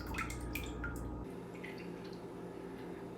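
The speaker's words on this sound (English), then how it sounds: "all we gotta do here is just drain it out and depress the plunger" Home-brewed beer draining out of a hose from a one-gallon fermenter, a run of close, bright drips and splashes that settles into a quieter trickle of flowing liquid.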